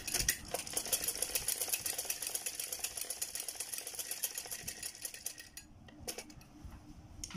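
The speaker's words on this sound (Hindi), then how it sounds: "इसकी सिलाई डबल करनी है हमने।" A sewing machine runs fast, double-stitching trouser fabric with a rapid, even mechanical rattle. The needle chatters steadily at close range, then briefly slows with a few separate clicks near the end.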